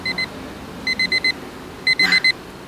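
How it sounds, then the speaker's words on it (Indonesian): An alarm clock beeps in quick clusters of electronic tones: a pair of beeps, then a run of five, then another run of five. The beeps are loud and close, with no voices over them. "alarmnya bunyi seperti ini"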